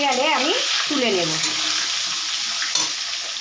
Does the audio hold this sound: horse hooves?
no